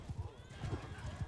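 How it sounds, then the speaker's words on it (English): Cavalry horses charge in Mount & Blade 2 Bannerlord, a rapid, uneven drumming of many hooves with a whinny mixed in, moderately loud and continuous throughout. "Got all of our horse charging in."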